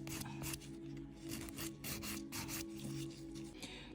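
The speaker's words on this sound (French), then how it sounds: "Donc là, ma lime." A nail file works a gel nail tip (capsule): quiet, close, continuous rasping strokes in a quick, steady back-and-forth rhythm, with no voice.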